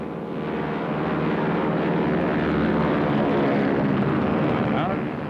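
A captured German Junkers Ju-88 bomber's engines drone loudly and steadily, a continuous propeller roar with no break, heard alone.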